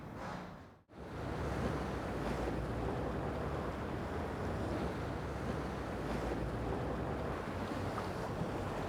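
Surf rolls and washes continuously at Havelock Bay, a swimming spot, as a dense, steady roar mixed with wind noise on the microphone, broken only by a brief dropout near the start.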